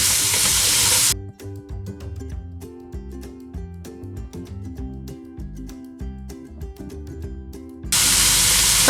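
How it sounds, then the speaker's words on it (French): Peppers and eggplants sautéing in a pan for chakchouka give a loud, bright sizzle that opens the clip, drops away beneath a stretch of plucked music, then returns full and steady at the end. "Je les retire aussi pour faire revenir mes aubergines à la fin."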